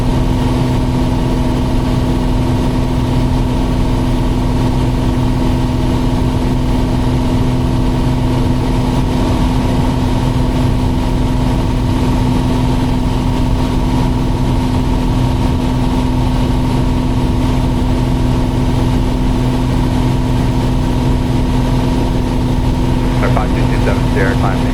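Steady drone of a Piper Cherokee Six piston engine in flight, a loud constant hum with strong low tones that fills the cabin, with radio or cockpit voices faintly under it.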